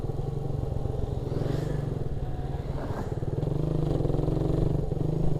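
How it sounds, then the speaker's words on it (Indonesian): Motorcycle with a carburetor idling and sputtering unevenly while downshifting, a loud, close, rough, pulsing engine note that rises slightly toward the end. "kadang suka berebet gitu, kayak misalkan gini nih, gua nih turun gigi ya"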